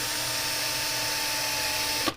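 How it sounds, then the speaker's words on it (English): A drill bores through a small rivet on the casing of a Parmak Solar Pak 6v fence charger, giving a steady high-pitched whine that stops abruptly at the end. "And drill all the way through one of them."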